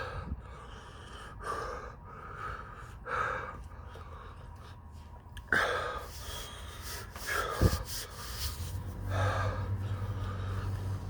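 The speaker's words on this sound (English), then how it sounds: "Got me breathing really hard." Heavy, audible breathing after eating a very hot pepper: close, repeated gasps, snorts and sharp inhales in an irregular rhythm, fairly quiet overall.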